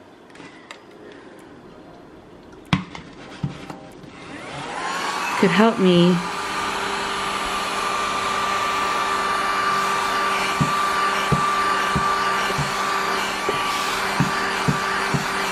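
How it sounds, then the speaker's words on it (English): A small handheld vacuum whirs up and runs with a steady high motor whine, preceded by a few clicks and handling knocks, while someone speaks briefly near the start. "So I thought that this little sweet little vacuum"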